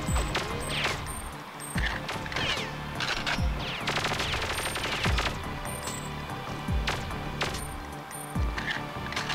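Rapid bursts of video game gunfire, a dense volley of shots and crashes under a steady backdrop of game sound.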